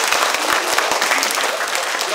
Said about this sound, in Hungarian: Nagyon nagy tapsod!